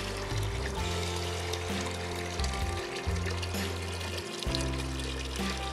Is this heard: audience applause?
no